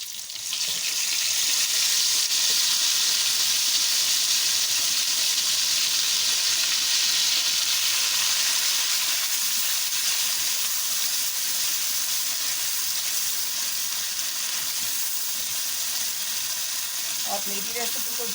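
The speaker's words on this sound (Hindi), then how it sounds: "अब ये जो मैंने टमाटर प्याज को ग्राइंड करके रखा है ये डाल दें।" A ground tomato and onion paste hits a hot pan for a kofta curry, giving a loud, continuous sizzle and hiss that holds steady, with a brief clatter near the end.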